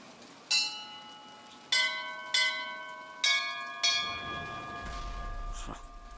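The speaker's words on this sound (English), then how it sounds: "let's use the bells." Bells at the top of a lighthouse in BioShock Infinite ring four times at uneven intervals, each strike bright and resonant with a long decay, followed by a low rumble and soft rain-like hiss.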